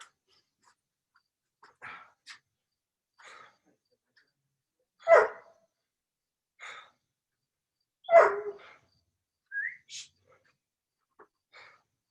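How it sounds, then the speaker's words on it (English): A dog gives a few scattered barks and huffing breaths across several seconds in a quiet indoor room, loud and near, with long silent gaps between the bursts. "My dog's cheering you guys on"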